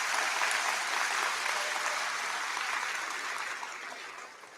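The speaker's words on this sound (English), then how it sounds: "One last round of applause for all." Graduation audience applauding together, a steady dense wash of many hands clapping at full strength that eases slightly toward the end, with no voices over it.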